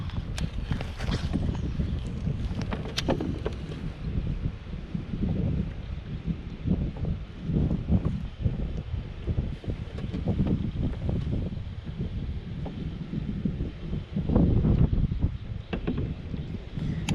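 Wind gusts and rumbles against the microphone on a fishing boat over open water, a continuous low buffeting with knocks and bumps throughout, no talking.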